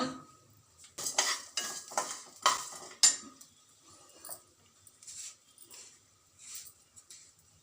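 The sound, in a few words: dry roasting pepper and coriander seeds in a pan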